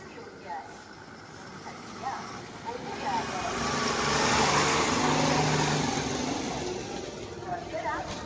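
MSRTC 2x2 ordinary bus pulling in for the Bhimashankar route at a Pune stand, its engine swelling into a broad rumble mid-clip and then easing off, with a voice talking throughout.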